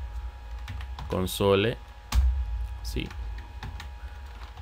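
Code being typed on a computer keyboard, a series of light, quick key clicks in short bursts under a man's speech, fairly quiet and close.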